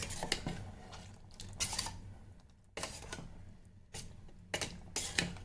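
Matar paneer with chopped coriander being mixed in an electric kettle, with repeated clattering scrapes of a spoon against the pot in short bursts over a low hum, close and moderately loud.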